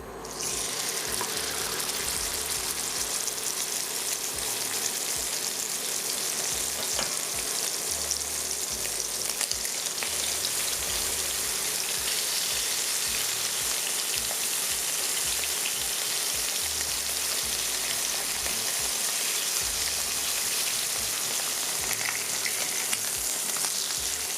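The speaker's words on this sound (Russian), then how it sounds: "Именно на нем мы и будем обжаривать нашу куриную грудку" Steady, loud sizzling of chicken breast frying in a hot pan, continuous crackle and hiss throughout with no talking.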